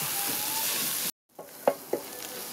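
Garam masala spice mix roasts in a pan with a bright, steady sizzle, a brief silent break, then quieter frying with a couple of distinct scraping stirs close by.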